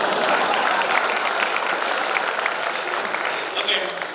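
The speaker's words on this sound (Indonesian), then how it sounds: "Tepuk tangan." Applause from a room of attendees at a front-end web development talk, a steady wash of many hands clapping together that fades slightly toward the end.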